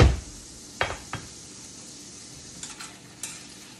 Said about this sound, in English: you just simply saute these until they're hot and cook